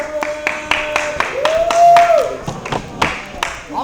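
Steady rhythmic clapping from a small group at an awards handout, with sharp repeated claps throughout, a brief whistle-like tone in the middle, and people talking over it.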